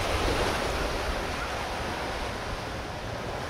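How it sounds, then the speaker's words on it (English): Wind gusting steadily at a shoreline during fishing-rod casting, a continuous loud roar with buffeting on the microphone and no clear voices. "hard to do it with the wind"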